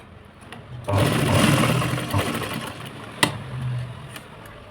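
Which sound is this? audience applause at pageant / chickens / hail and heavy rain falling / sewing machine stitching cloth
sewing machine stitching cloth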